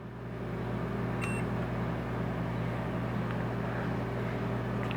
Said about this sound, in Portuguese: vou desligar o micro-ondas.